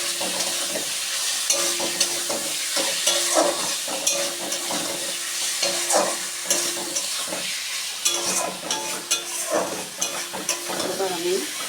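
Potatoes frying in oil for a prawn and cabbage curry, a loud continuous sizzle with crackles and stirring scrapes throughout, heard up close.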